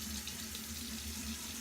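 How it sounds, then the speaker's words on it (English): Water runs steadily from a tap into a sink while brushes are washed, a continuous close hiss and splash with no pauses. "I'm sorry if you hear the water running"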